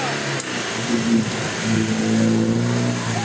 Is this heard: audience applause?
no